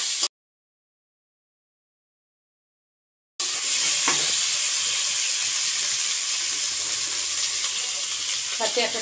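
Bay leaf and grated ginger frying in a pan for dal, with a dense bright sizzle and hiss and a few stirring scrapes, close and steady after a short stretch of silence.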